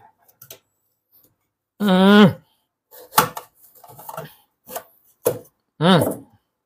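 A kitchen knife cuts into a hard watermelon in a hot-weather home kitchen, giving a few sharp chopping clicks and a crunch, with people talking between the cuts.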